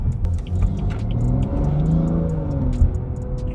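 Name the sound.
tuned BMW engine accelerating under throttle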